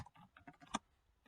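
Quick burst of typing on a computer keyboard, a rapid run of light key clicks with one sharper stroke near the end, close and alone.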